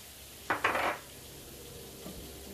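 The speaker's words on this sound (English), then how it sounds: "Time to put the bean sprouts. So I'm adding those to it." Bean sprouts drop into a hot pan of homemade fried rice with crispy shrimp, giving a short, loud double burst of sizzling. The sizzle fades quickly to a quiet hiss, and a faint clink of the pan follows.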